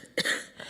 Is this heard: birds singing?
no